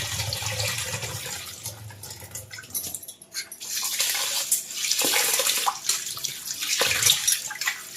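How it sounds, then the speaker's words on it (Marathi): Water splashes and swishes in bursts as rice is rinsed by hand, close and fairly soft, with pauses between washes. "ते बघा आता आपलं पाणी स्वच्छ जसं होईल ना तसं धुवत धुवत घ्यायचे"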